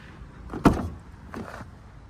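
A BMW car door is opened: a sharp latch clunk, then a softer thud and rustle a moment later, close by in a quiet setting.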